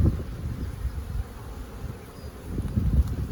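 Honeybees buzzing in front of their hive on a mild day, a steady low drone that swells and fades as individual bees pass close to the microphone.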